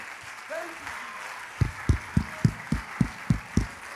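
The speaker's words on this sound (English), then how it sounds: "Clap your hands to the Lord and let's thank him one more time" Church congregation at a Sunday service clapping together, first a murmur of voices and then a string of loud, evenly spaced claps in a steady rhythm.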